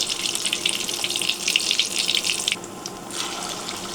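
Small portions of a mixture dropped by hand into hot soybean oil on a stove, giving a steady bright sizzle that eases off near the end.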